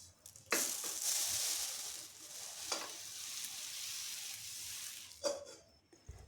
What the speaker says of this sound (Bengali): তিলটাকে নাড়াচাড়া করে হালকা ভেজে নেব।